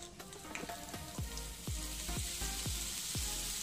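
Half a spoon of cumin seeds, with chopped green chilli, sizzles steadily in hot oil for a sabudana khichdi, a dense crackling hiss broken by repeated low knocks of a spoon stirring the pan.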